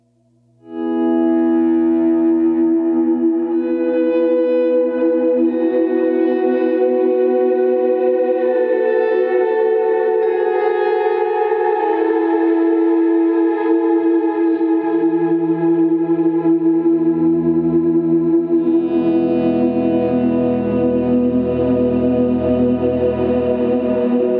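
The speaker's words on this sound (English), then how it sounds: "when you press the particle verb, you can turn on your swell sound" Electric guitar through a Line 6 POD Go with the Particle Verb swell effect, notes fading in and blooming into a long, sustained wash of shimmering reverb that holds steadily, loud and without voices.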